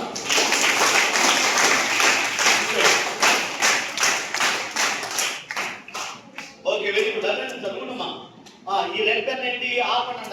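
Students in a classroom clapping in a rhythmic, fairly loud burst of even claps that thins into scattered applause, with a speaker talking over the later part.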